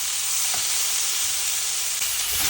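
Garlic frying in hot oil in a pan for a mung bean stew, a loud, steady hissing sizzle that stays constant from start to finish.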